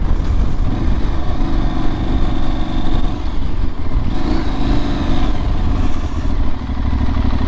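An Aprilia Tuareg 660 motorcycle descending a steep hill, its engine a steady low drone with gentle swells, heavy wind rush and rattling close by, no talking.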